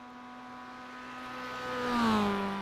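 A Mazda MX-5 Cup race car in the iRacing sim on a road course, its engine holding a steady high note that swells and pitches up as it accelerates, then drops away near the end, heard alone without talk.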